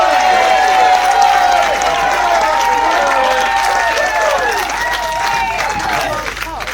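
A wedding audience applauds the father of the bride, a dense, sustained wash of clapping that stays loud and steady throughout, with some crowd voices mixed in.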